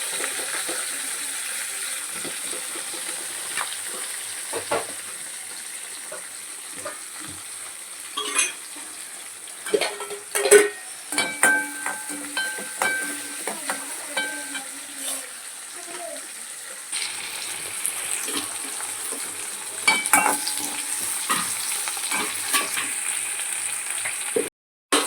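Onions frying with fennel seeds, bay leaf and cloves for a traditional bone-meat curry, a steady close sizzle broken by clinks and scraping of a utensil against the pan.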